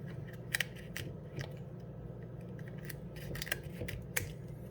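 Kitchen scissors snipping through dried chilies for homemade chili powder, a few sharp crisp cuts standing out over a steady low background hum, close and fairly quiet.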